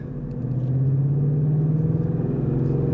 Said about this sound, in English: driving the manual Mustang